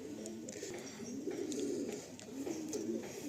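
A pigeon in a loft coos softly, a few low rolling calls repeating in a gentle rhythm, close but quiet, with faint background noise and no talk.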